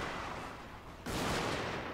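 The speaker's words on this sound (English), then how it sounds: "I believe this to be enemy artillery coming down upon us" Enemy artillery fire in the Fall of the Samurai battle game, a broad rumbling burst that jumps in loudly midway over a steady background of battle noise.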